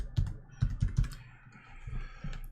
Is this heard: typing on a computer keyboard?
yes